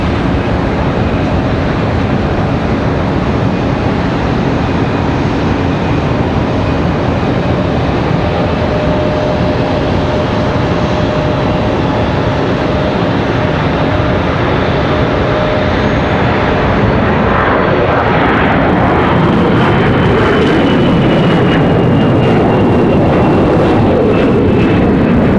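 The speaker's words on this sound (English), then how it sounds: "Loud A321." An American Airlines Airbus A321-200 departs Charlotte Douglas airport, its engines producing a loud, continuous roar that holds for the whole stretch and grows rougher and more crackling near the end.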